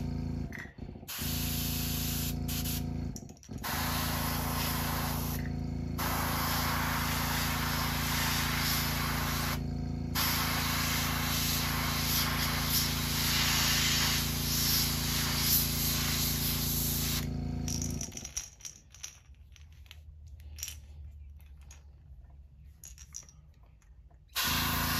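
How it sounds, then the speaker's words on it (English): Spray paint hisses steadily from a can or airbrush onto the underside of a custom bluegill glide bait, a long continuous close burst with a few short breaks, then stopping to leave quieter shuffling. "And we'll spray down the bottom, trying to keep it off the green."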